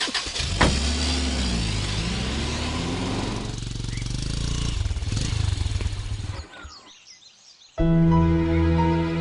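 A car engine revs loudly and pulls away close by as the car drives off, its tone rising and falling, then dropping off sharply before a loud burst of music takes over.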